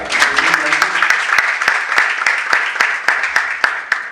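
Loud, close applause from an audience at a Congolese leadership event, with sharp individual claps standing out from a steady crowd clapping over several seconds and a faint voice beneath it.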